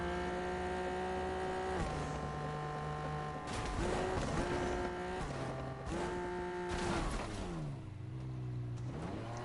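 A video game car engine revs and climbs in pitch several times, with sustained loud whines, shifting tones and a tire squeal near the end, alone without talk.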